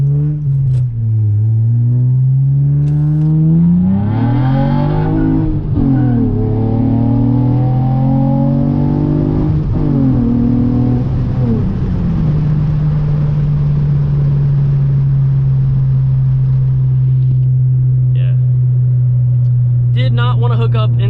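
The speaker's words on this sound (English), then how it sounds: "let's crack these windows so y'all can hear the car" Car engine heard from inside while driving on cold roads, loud and close with windows cracked, revving up through rising pitch sweeps and shifts before settling into a steady cruising drone, with a voice talking over it.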